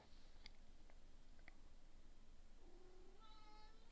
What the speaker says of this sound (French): ouais, quand il miaule. c'est mon chat.